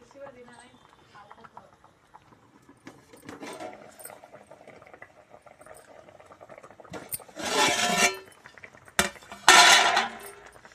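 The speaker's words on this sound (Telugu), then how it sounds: "ఇది మంచిగా చాలాసేపు ఉడకాలి" Fish curry boiling in a pot on a home stove. Low bubbling gives way to two louder bursts of rushing, hissing boil near the end.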